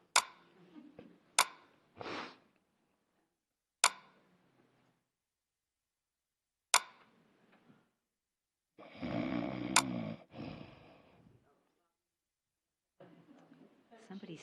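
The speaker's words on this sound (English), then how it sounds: "Somebody snoring?" Someone snoring while asleep, a few scattered breathy snorts early on and then one long, louder rasping snore near the middle, with quiet gaps around it.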